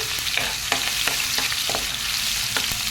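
Ginger paste fries in a pan for an egg omelette curry, giving a steady broadband sizzle with several sharp scrape-and-stir clicks spread through it, close and continuous without any voices.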